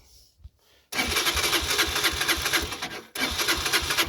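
A 2022 Honda CG 125L motorcycle engine cranks and catches on choke, then runs with a loud, close, rapid lumpy putter, briefly cutting out near the end before picking up again.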